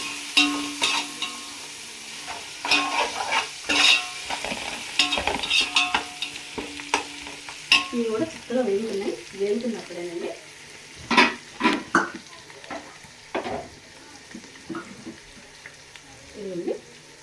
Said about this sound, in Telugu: ఇవి కూడా వేగుతున్నాయండి.